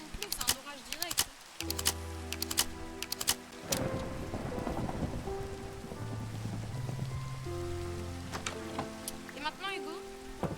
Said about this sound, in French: il s'est mis à pleuvoir d'un coup là avec le petit éclair, c'est même pas une pluie, c'est un orage direct